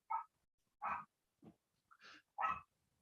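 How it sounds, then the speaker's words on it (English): A dog indoors barks in five sharp, separate yaps, well spaced across a quiet room, moderately close with silence between each bark. "I'm sorry if you can hear the dog"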